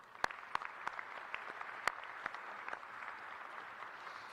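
An audience at the Averett University spring commencement claps faintly and sparsely, with individual claps standing out against a soft wash of thin, distant applause.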